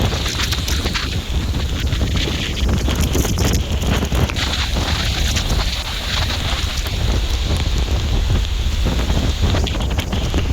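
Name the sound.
heavy rain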